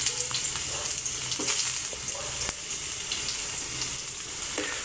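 Ginger sizzles in hot oil as cooking starts for squid adobo, a steady crackling fry with occasional sharper pops and faint stirring, close and continuous, no one speaking.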